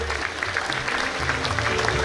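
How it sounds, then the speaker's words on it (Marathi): A crowd claps steadily at a kirtan event, a brief burst of applause filling the space without pause. "मंडपाचे ओनर जे आहेत रामेश्वर रायते यांच्यासाठी सुद्धा जोरदार टाळ्या या ठिकाणी द्यायच्या आहेत"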